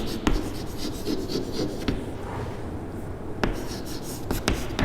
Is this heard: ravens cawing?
no